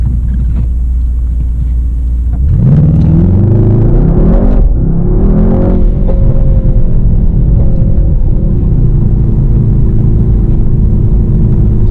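A 2019 Mercedes-AMG GT 63 S 4-Door Coupe with a 639 hp V8 pulls hard in first gear from inside the cabin, its deep drone rising in pitch in a long sweep, then easing to a steady lower rumble.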